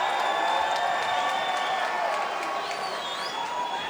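A large arena crowd of fans at a Power Slap event cheers and roars continuously, loud and dense, with whoops and scattered clapping rising above the steady wash of voices.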